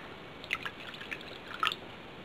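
Liquid goes into a container while homemade slime is being made, with a few soft, close drips and wet squishes spaced apart over a quiet background.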